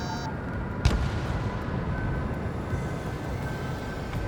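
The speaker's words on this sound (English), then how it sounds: "Bombs away." A bomb drop in Ace Combat 7 lands as one sharp, heavy blast early on, followed by a continuous roar of aircraft engine and rumble.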